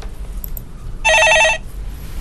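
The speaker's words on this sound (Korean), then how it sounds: "예, 전화 받아보겠습니다." A telephone rings once for an incoming call on a stock-market call-in broadcast. The short trilling burst lasts about half a second over a steady background hum.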